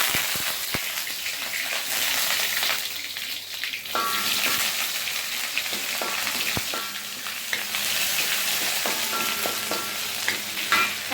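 Ginger garlic paste and curry leaves fry in hot oil for egg fried rice, a steady close sizzle with scattered clinks and scrapes of stirring throughout.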